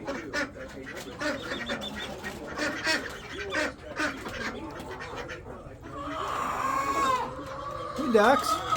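Khaki Campbell ducks in a coop on a rainy day, quacking and honking in a busy, close cluster, with a person talking over them throughout.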